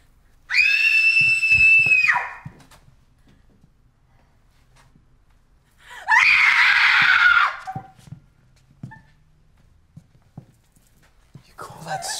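Screaming from a scene in The House That Jack Built: a piercing, sustained scream of about a second and a half, then a silence of several seconds and a second, rougher scream, with faint noises between and after.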